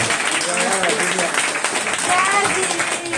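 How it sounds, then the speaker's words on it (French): An audience at a hypnosis show claps loudly and continuously, while voices and a few brief vocal sounds rise over the clapping. "On peut vous faire un tonnerre d'applaudissements"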